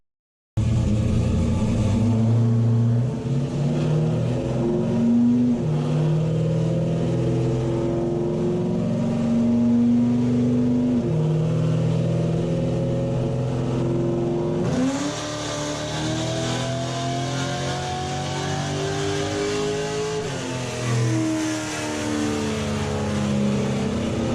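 A car engine fed by Holley 1850 or 4224 center-squirter carburetors revs on a dyno, a loud, continuous rumbling run that climbs steadily in pitch, drops back midway and builds again.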